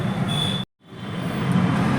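Delhi metro train at a station, with a steady rumbling roar and a high whine that cut out briefly to silence, then return and build again.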